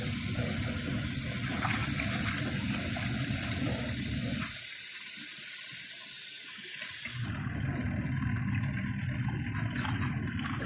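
Water gushes steadily into a mini twin tub washing machine, a loud, close, continuous rushing pour that briefly thins out midway before resuming at a slightly lighter, splashier tone.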